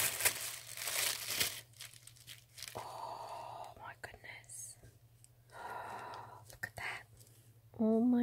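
Wrapped art swap package being torn open by hand, with loud paper ripping and crinkling up front, then softer rustles and handling noises, while a person speaks quietly.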